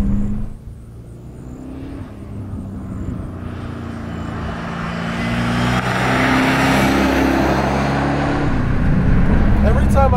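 A 1988 Callaway Twin Turbo C4 Corvette accelerates at full throttle in third gear, its low engine drone rising steadily in pitch and loudness over about ten seconds.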